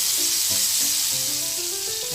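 Chicken frying in oil turned yellow by turmeric, a steady close sizzle throughout with faint stirring and no talking.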